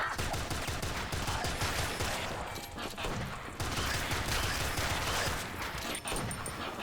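Dense, sustained gunfire from the video game Rise of the Gorecats, rapid automatic bursts filling the whole stretch with a brief lull midway, loud and close with no talking.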